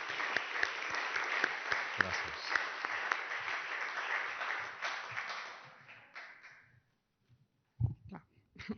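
Audience applause in tribute to Anna, a Barcelona library collaborator, at a poetry event: steady clapping for several seconds that fades out, followed by a brief spoken word of thanks.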